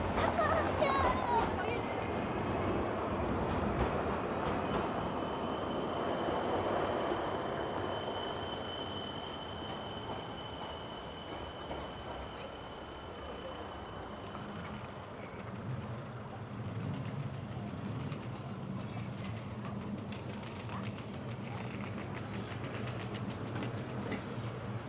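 A tram rolls through Kraków's old-town Main Square, its wheels squealing and rumbling over the rails, while street noise and distant voices fill the background.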